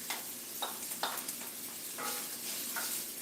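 Garlic goes into a pan of sautéing chicken and chouriço paella ingredients, with a soft continuous sizzle broken by a few sharp stirring and scraping clatters.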